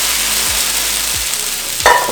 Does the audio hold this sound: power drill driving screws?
no